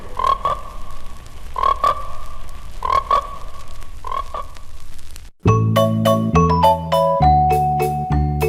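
Frogs croaking loudly in a 1972 movie trailer, four evenly spaced bursts of rasping calls, followed by bright chiming musical notes that take over the second half.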